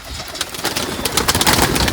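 Pigeons coo in soft, repeated throaty calls, close by inside a pigeon loft, over a busy rustling background.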